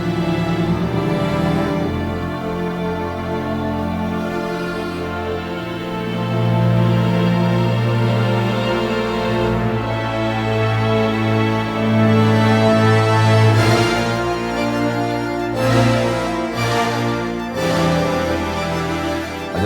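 Orchestral strings open the track with cellos, violas and violins sustaining long, swelling chords that sit loud and full throughout, shifting in intensity toward the end.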